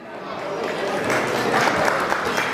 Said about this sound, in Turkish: Alkışlar, alkışlar.